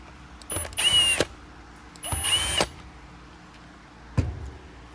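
Power drill backing out screws from the cyclone separator of a Bissell Pet Hair Eraser Turbo Rewind vacuum, with two whirring bursts of about half a second each and a brief third blip, close and clear with no talk.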